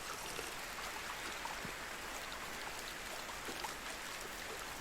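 Video-game stream water flows in a constant soft trickling hiss with faint droplet ticks, steady and unbroken throughout.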